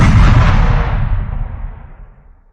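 A giant rock-hurling cannon fires with huge explosions. One loud, close, deep blast starts the clip and its rumble decays slowly over two seconds.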